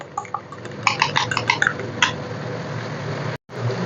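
Yogurt being whisked with turmeric, garam masala, coriander powder and salt in a bowl: quick, light clinking taps of a utensil against the bowl in a short irregular run, then a quieter stretch.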